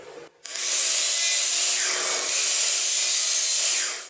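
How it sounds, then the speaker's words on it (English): A miter saw spins up and makes 45-degree cuts through scrap wood with a loud, steady whine lasting several seconds before winding down; no one speaks. "we're going to use the miter saw to cut these at 45 degrees"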